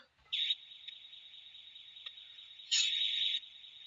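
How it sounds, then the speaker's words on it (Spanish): Electronic alarm driven by a relay circuit, a steady high-pitched tone held for several seconds that swells louder in two short bursts, with no talking. "Luego voy a tocar la E, suena la alarma"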